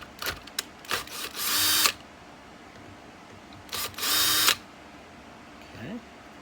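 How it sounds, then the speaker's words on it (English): A small square-drive bit in a power driver backs screws out of an Echo weedeater carburetor, two bursts of close whirring, each about a second long, separated by quiet handling clicks. "You can use a square drive on these. Small square drive."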